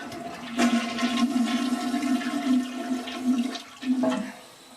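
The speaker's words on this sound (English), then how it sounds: "When we flush the toilet, it takes a long time for the tank to refill." Toilet with a faulty fill valve flushing, then the tank refilling, a close steady rush of water with a sustained hissing hum and a few gurgling surges before it tapers off.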